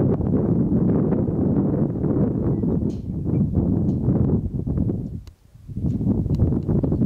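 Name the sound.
wind blowing through bullet holes in a sign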